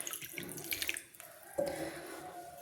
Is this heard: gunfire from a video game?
no